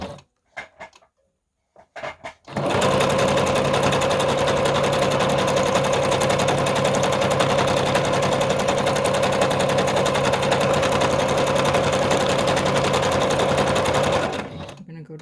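A sewing machine runs a long, steady straight stitch across a paper collage card in light thread, a continuous close whir lasting about twelve seconds after a few brief handling clicks and taps.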